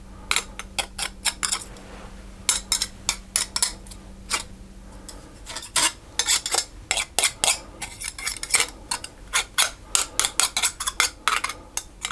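A pastry cutter is repeatedly pressed through butter and flour in a bowl while making rough puff pastry, giving rhythmic, close clinks and scrapes against the bowl that speed up into a quick, steady chopping beat.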